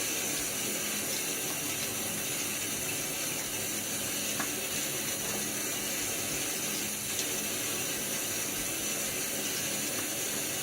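Tap water running steadily into a sink while a safety razor is rinsed between shave passes, a constant hissing splash at moderate volume with faint clinks, no talking.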